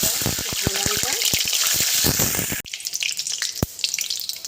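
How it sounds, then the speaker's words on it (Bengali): Cumin seeds and a bay leaf hit hot mustard oil with a loud, bright sizzle and rapid spattering pops, then the hiss abruptly drops to a quieter crackle with occasional sharp ticks. "তেল গরম হয়ে গেছে দিয়েছি সর্ষের তেল এবার দিয়ে দিচ্ছি জিরে ফোড়ন এবার দেব তেজপাতা"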